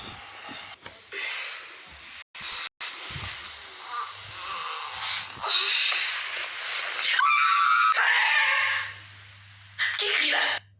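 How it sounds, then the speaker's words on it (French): A child screams repeatedly in a home, with shrill bursts rising and falling across several seconds, broken by short gaps and mixed with other voices and household noise. "Qui crie là?"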